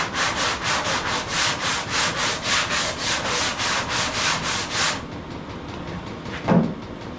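Sanding a hood during its build, a steady back-and-forth rasping rhythm of about a dozen strokes, close and loud, then it stops, leaving a quieter hiss with one brief knock.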